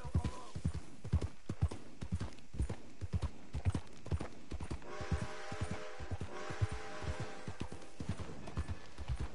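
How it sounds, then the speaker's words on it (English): Horse hooves clip-clopping at a steady riding pace in Red Dead Redemption 2, a close, rhythmic run of hoofbeats over faint background ambience, with a short tonal chime-like passage midway. "I need to get better at riding horses."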